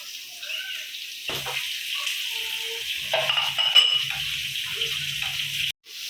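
Surmai fish shallow-frying in a pan for a Konkani-style thali, a steady close sizzle that runs throughout with a few clinks and scrapes in the latter half, then a brief cutoff near the end.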